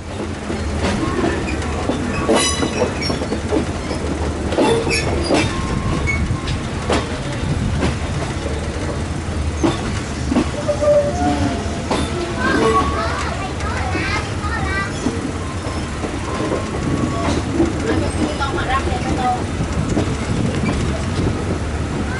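A train pulls out of Hat Yai junction on the Surat line, its wheels clattering steadily over the rails with squeals and rumble throughout, while a voice talks over the noise.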